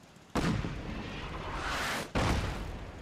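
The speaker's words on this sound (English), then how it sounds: "That's an artillery I threw up there at the last minute, bro." Two heavy artillery blasts boom in Fallout 4, each a sudden loud impact followed by a long rumbling roar that rolls on for over a second.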